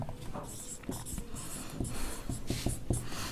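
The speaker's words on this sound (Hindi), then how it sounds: "हम कुछ और एग्जाम्पल यहाँ लिख लेते हैं" Chalk or marker scratching out examples on a board in a classroom, a run of close, steady writing strokes with short rhythmic taps and squeaks and no talking.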